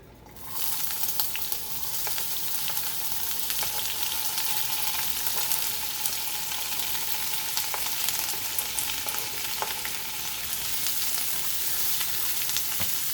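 Chopped white onion and celery fry in olive oil in a pan, giving a steady, dense sizzle that runs the whole time, close and fairly loud, with occasional small pops and no talking.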